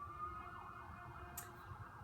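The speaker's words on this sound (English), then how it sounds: "Don't you love the sirens?" Emergency vehicle sirens wailing outside, a faint distant steady tone under low room noise, with no talk.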